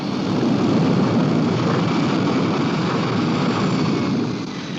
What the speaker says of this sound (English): Flight 107 from Washington, D.C. to Lisbon, clear for takeoff.